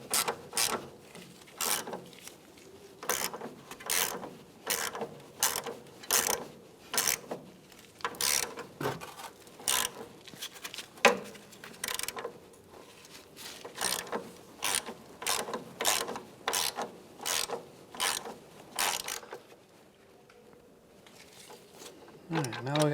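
Ratchet wrench with an 18mm socket tightening a front sway bar link bolt on a 2011-2016 Hyundai Elantra: a long run of sharp, close ratcheting clicks in quick repeated strokes, fading out near the end.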